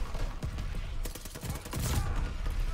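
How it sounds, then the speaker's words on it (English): Rapid gunfire and thudding explosions from the Call of Duty Vanguard video game crackle in quick bursts, loud and chaotic throughout the short stretch. "Explosions and fucking gunfire"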